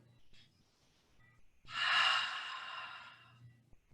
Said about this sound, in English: Keep breathing out the mouth here.